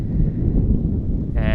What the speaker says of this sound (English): The wind gusting here in the third quarter as a nearby chair just got blown over.